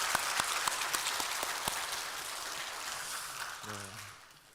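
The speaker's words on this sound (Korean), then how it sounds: "우리 먼저 이상규 목사님 위해서 다시 한번 박수 한번 칠까요?" A congregation claps steadily at a church pastor's installation service, dense, close applause that gradually thins and fades while a voice begins speaking near the end.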